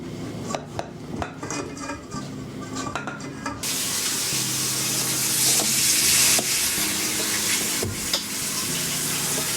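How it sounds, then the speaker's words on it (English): A balloon whisk beats a sugar mixture in a bowl for lime macarons, quick rhythmic clinking strokes at first, then a louder continuous hissing swirl as mixing speeds up, with no talking. "Whisk until the sugar dissolves and the mixture reaches 150 degrees Fahrenheit."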